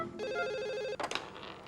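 A telephone rings with a steady electronic warbling tone for close to a second, then stops abruptly as the handset is picked up with a brief clatter and faint room noise.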